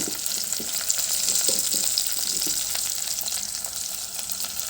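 Onions, green chillies and curry leaves fry in hot oil with a steady, close sizzle, punctuated by soft stirring scrapes and small crackles.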